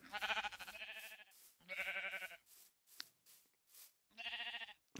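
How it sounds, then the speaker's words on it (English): Sheep in the Minecraft video game with the AbyssalCraft mod let out three loud, wavering bleats, close and separated by short pauses, with quieter clicks in between. "There's a bunch more sheep over there."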